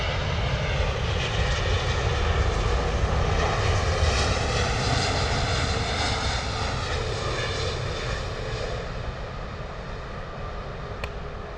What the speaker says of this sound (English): Beautiful touchdown there from the Boeing 777.